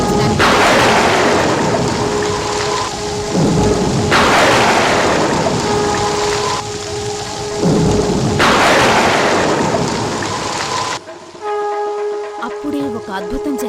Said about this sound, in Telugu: బయట బాగా పెద్ద వర్షం పడుతోంది.